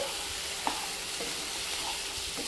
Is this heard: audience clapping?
no